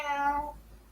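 A male house cat, kept indoors, meows loudly at close range, one drawn-out harmonic cry that rises and then fades away, with no talking over it.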